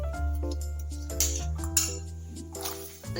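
Cut jackfruit seeds dropped into a metal cooking pot, a series of bright clinks and knocks scattered irregularly over a few seconds, close and fairly distinct against a low steady hum.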